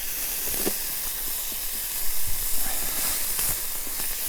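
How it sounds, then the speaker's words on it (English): Bacon and eggs sizzle in a pan over an outdoor campfire in the bush, a steady close hiss with faint pops and crackles running throughout. "Bacon, eggs on the fire,"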